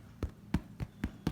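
Five dull, hollow knocks on the bottom of a freshly baked loaf of bread with a crusty surface, evenly spaced, close and soft, with no talking.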